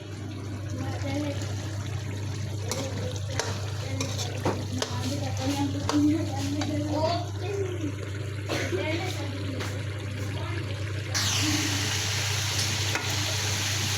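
Potatoes cooking with keema in a pan with added water, giving a steady sizzle and bubbling with soft scraping from continuous stirring, close and constant, while a voice talks over it.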